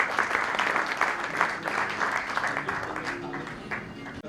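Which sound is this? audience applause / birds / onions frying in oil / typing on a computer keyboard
audience applause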